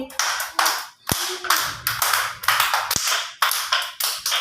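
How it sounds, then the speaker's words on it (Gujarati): Young children at an anganwadi clap their hands in time during a light exercise routine, about a dozen sharp, even claps in a steady rhythm, loud and close, with a faint voice between them. "આગળ તાળી"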